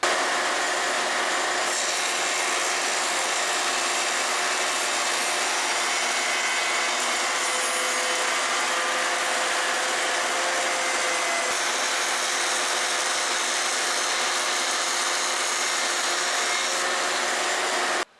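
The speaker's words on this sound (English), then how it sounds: "This is a 3-edge carbide tip bit for making tongue and grooves." A wood shaper spinning a 3-edge carbide-tipped tongue-and-groove bit, a loud, steady, broadband roar of cutting that runs without a break for the whole stretch and then cuts off abruptly, with no voices.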